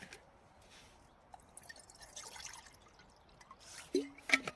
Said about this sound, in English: pour some water into the kettle here